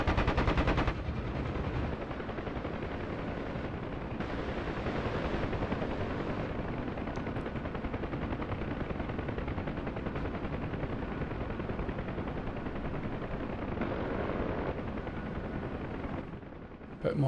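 Aircraft machine guns in a DCS World WWII flight sim over the Marianas: a steady, continuous rattle of rapid fire under a droning engine runs for the whole stretch, loud and close, with brief talk.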